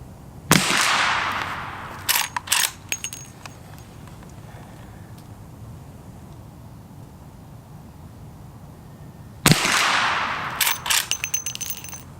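Henry Big Boy .357 lever-action rifle: two sharp, loud gunshots about nine seconds apart, each followed by a quick burst of metallic lever-cycling clacks, with quiet outdoor ambience between them.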